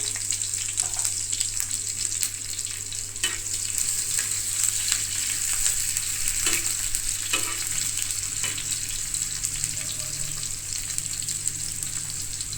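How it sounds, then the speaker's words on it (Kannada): Onions roast lightly in a pan for a paneer roll, with a constant soft sizzle and occasional sharp stirring clicks and scrapes, close by, with no voices. "ಆನಿಯನ್ಸ್ ಜಾಸ್ತಿ ರೋಸ್ಟ್ ಮಾಡ್ಕೋಬೇಡಿ, ಲೈಟಾಗಿ ರೋಸ್ಟ್ ಆದರೆ ಚೆನ್ನಾಗಿರುತ್ತೆ"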